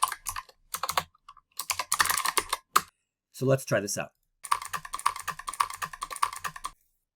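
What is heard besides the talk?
typing on a computer keyboard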